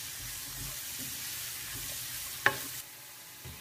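Sliced mushrooms with salt sauté in a pan, giving a steady, close hiss of frying under occasional stirring, with one bright utensil clink against the pan partway through.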